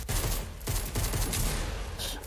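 Dense, sustained burst of automatic gunfire from the Fortnite video game, loud and continuous with rapid overlapping shots and no clear gaps, no speech over it.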